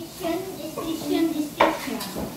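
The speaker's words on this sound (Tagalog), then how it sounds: "Maghugas muna ako ng pinggan" Dishes, pots and cutlery washed at a kitchen sink in a home in the UAE, with scattered clinks and scraping of plates and utensils over soft running background noise.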